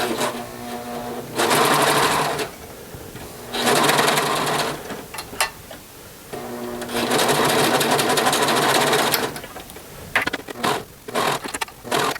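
A serger stitches around a T-shirt armhole in three loud, close runs of rapid mechanical chatter, separated by pauses with fabric handling and light clicks.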